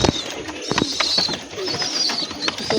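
Pigeons coo softly at a rooftop loft with chicks present, a continuous murmur of low calls mixed with faint chirps close by.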